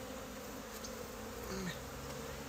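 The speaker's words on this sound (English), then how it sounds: "Boy, I have a bee right in my ear." A honeybee buzzes close by the ear during a hive inspection, a steady droning hum that swells briefly nearer, over a constant outdoor background.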